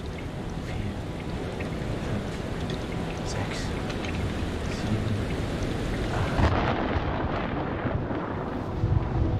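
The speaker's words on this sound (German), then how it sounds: "Der Sturm ist 8 Meilen weg." Thunderstorm with steady heavy rain and rumbling thunder in the video game Man of Medan, a dense continuous wash with a louder swell near the end.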